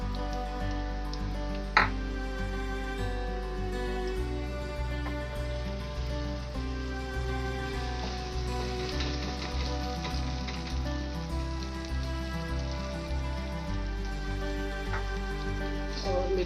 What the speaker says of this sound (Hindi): तकरीबन गोल्डन हो चुका है लहसुन। मैं इसमें अब राइस डाल रही हूँ।